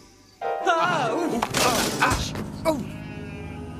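Sheep bleat a few times, wavering calls mixed with clattering and thumps, fairly close and loud against a busy background.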